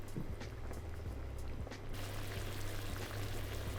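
Beef stock poured into a pasta pan, a steady liquid splash and trickle continuing throughout over a low bubbling hum, with no talking.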